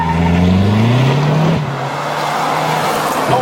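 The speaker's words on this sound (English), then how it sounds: "this car is so much fun to drive in the twisties" A 2021 Mazda3 Turbo driven hard through twisty corners gives a loud, close engine drone that rises in pitch, then drops away with a steady road roar underneath.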